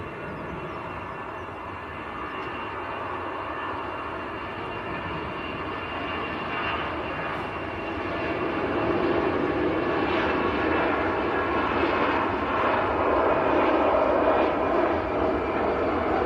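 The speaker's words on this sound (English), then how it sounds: "Let's hope it's a smooth takeoff for them." An Airbus A320 taking off at Manchester Airport, its engines a broad steady roar that builds and grows louder over the final seconds, heard from the ground without talk.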